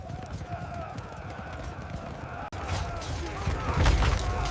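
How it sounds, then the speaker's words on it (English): Heavy Serbian cavalry charging against Ottoman lines in a battle re-enactment of Kosovo 1389: a dense clip-clop of many galloping hooves that swells louder and closer toward the end, with rumbling battle noise underneath. "Serbian heavy cavalry initiates a thunderous charge against the Ottoman lines."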